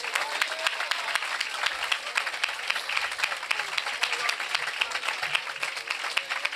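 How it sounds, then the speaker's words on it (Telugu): A church congregation claps in praise, a dense, continuous patter of many hands filling a large hall, steady and fairly loud throughout with no voices rising above it. "దేవుని స్తుతిస్తూ చప్పట్లు కొట్టండి ఒకసారి"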